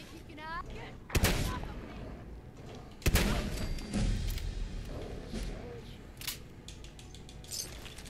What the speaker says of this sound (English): And we got submachine guns.